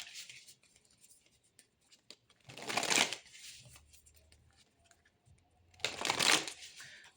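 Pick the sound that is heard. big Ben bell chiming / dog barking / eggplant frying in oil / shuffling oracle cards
shuffling oracle cards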